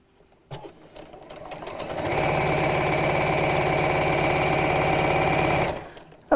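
A domestic sewing machine stitches a gift bag, starting with a brief whir and then running fast and steady for several seconds at close range before stopping abruptly.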